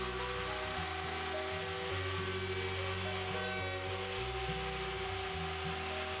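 A router cutting wood while being guided for a knife display makes a loud, continuous high whine, its pitch shifting slightly as the bit takes small passes, with no voices.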